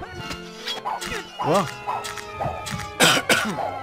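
Several hoarse coughs from a character in the video game Ultima 9, irregular bursts over game music and ambience, with a brief spoken exclamation.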